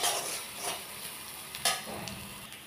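Onions and chillies stir-fry in a pan, a steady close sizzle broken by several sharp scrapes and clinks of a utensil, with no voices.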